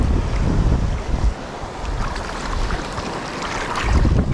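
Waves surge and crash amid a loud, steady rush of wind at sea, with heavier swells rising at the start and end.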